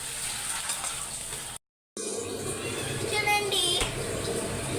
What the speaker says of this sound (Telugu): బాగా ఫ్రై అవనివ్వాలి. ఉల్లిపాయలు గోల్డెన్ కలర్లోకి వచ్చేయాలి.